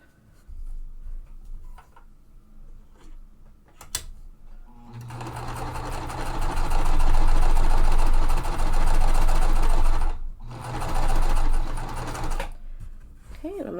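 A sewing machine stitches fabric pieces in two loud, rapid bursts of rhythmic clattering, separated by a short pause, with quieter handling sounds and faint talk before it starts.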